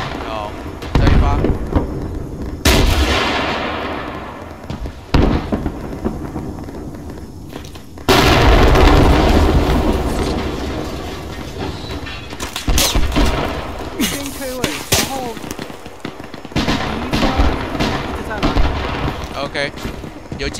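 Artillery in the ArmA III war game fires several heavy booming rounds, each a loud blast with a long rumbling decay, spaced a few seconds apart while players chat over voice comms.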